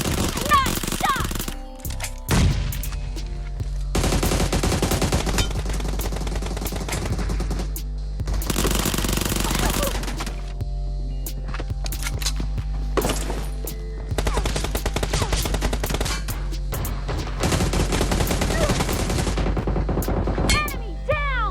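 PUBG gameplay with repeated bursts of rapid automatic gunfire and single shots, loud and close, separated by short pauses across the stretch, with occasional game voices.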